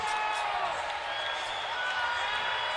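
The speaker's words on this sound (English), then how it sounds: "And the crowd is not happy. They're booing him off" A crowd at an indoor soccer game between the Wichita Wings and New Mexico Runners boos a player, a steady, dense roar of many voices filling the arena without a break.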